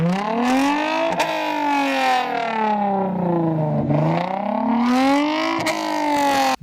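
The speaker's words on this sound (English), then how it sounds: "I'm just gonna give you a sample sound of the car with the cats off." Lexus IS250/IS350 with catalytic converters removed, revving loudly close by; the engine tone rises and falls in smooth sweeps, dipping low in the middle before climbing again, with brief sharp transients and no talk.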